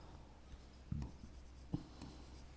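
A maths formula is being written by hand during a class lesson, faint scratchy pen or marker strokes in short separate bursts against a quiet room.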